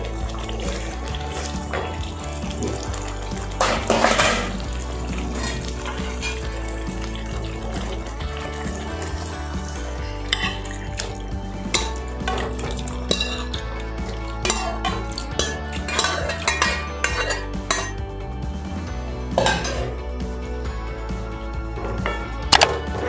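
Boiled mutton goes into a pot of thick, spicy village-style mutton rassa and is stirred, giving repeated metallic clinks and scrapes of a utensil against the pot over a steady background.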